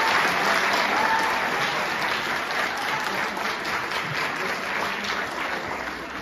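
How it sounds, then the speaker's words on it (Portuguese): Conference audience at a Women's Day event applauds at length, a broad, even wash of clapping that starts loudest and eases slightly as it continues, with no talk over it. "eu pedia a todos uma salva de palmas às nossas mulheres"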